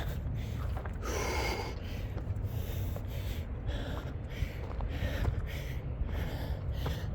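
Heavy, rapid breaths puff in and out close to the microphone, rough and repeated like winded panting after a cardio workout climb, over a constant low rumble of wind.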